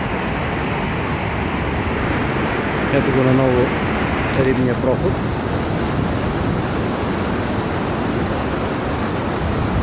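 River water rushes loudly and constantly at a hydropower intake near a fish pass, a broad steady roar with someone talking briefly over it.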